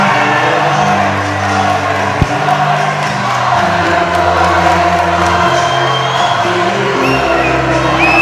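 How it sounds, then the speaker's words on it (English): A packed boxing crowd in Dunstable roars and chants for fighter Harvey Jay, a loud, continuous wall of cheering and shouts with one sharp thud partway through. "The crowd are going crazy for Harvey."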